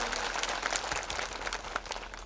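A crowd at a political rally in Sankisa claps steadily, a crackling patter of many hands at moderate distance that runs continuously with no talk over it.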